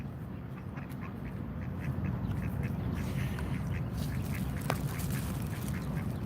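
Ducks quack near a street during a protest in Washington, DC, a rapid series of nasal calls over a steady background hum of traffic and crowd, moderately distant.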